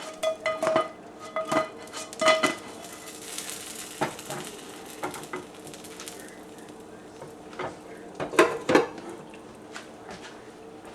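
Scallion pancake being flipped and cooked in a frying pan, with scattered metallic clinks and scrapes of utensil against pan in irregular bursts, loudest at the start and toward the end.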